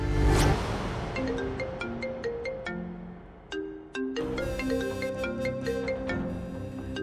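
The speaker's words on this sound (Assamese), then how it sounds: "ফোনটো ধৰি লোৱা অথনিৰ পৰা বাজি আছে" A phone ringtone plays a repeating electronic melody, moderately loud, pausing briefly before starting again with brighter tones.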